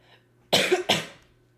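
Two sharp, close coughs come in quick succession from one person, the second trailing off into a hoarse rasp, over a faint steady hum.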